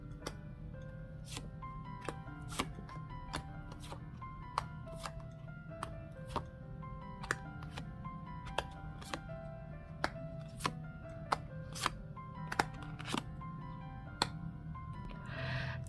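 Tarot cards are shuffled and laid out, making a run of crisp, evenly spaced taps and snaps close by, over soft background music.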